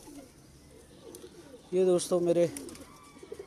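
A home-bred pigeon of the Mian Nazeer bloodline coos briefly on a house rooftop, a short, moderately close burst heard alongside someone talking.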